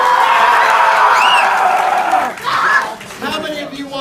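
A crowd at a live comedy-style talk applauds and cheers, a loud wash of clapping and whoops with a voice cutting through partway, then dropping off briefly before picking back up.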